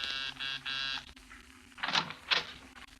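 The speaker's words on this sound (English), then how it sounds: "20 minutes later, I was pressing a hotel buzzer." A hotel door buzzer in an old-time radio drama gives two sustained electric buzzes close together, each about a third of a second long. Two brief, fainter shuffling or knocking sounds follow.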